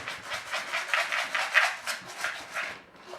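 Dry split peas rattle and swish in a container, shaken in a quick rhythmic series of gritty rustling pulses, close and fairly soft.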